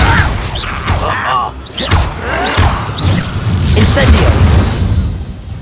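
A Confringo fire spell in Hogwarts Legacy bursts in a series of loud booming blasts and whooshes during a chaotic battle, with a character shouting and talking over the explosions.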